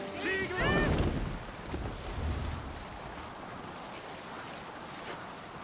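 Sailing ship out at sea in a PS4 video game, with wind rushing and waves washing as a steady, fairly soft background, and a few short voiced calls near the start.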